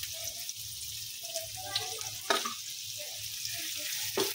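Two chopped onions sizzle steadily in a pan as stuffing for mutton cheese rolls is started, a soft, even frying hiss broken by a few louder stirring scrapes, heard alone without talk.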